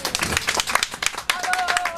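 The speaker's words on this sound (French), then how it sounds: "je vous demande d'applaudir mon apprenti cuisinier ici avec moi, Léo." Clapping for an eleven-year-old apprentice cook in a cooking demonstration, a brisk burst of hands from a small audience, fairly close, with a voice and some brief tones mixed in.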